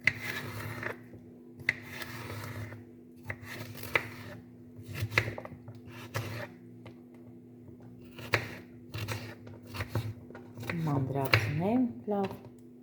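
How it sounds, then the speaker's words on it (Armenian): A knife chops cucumber on a board in a home kitchen, giving a run of short, separate cuts at an uneven pace. A voice speaks over the cutting near the end. "վարունգն եմ կտրատում"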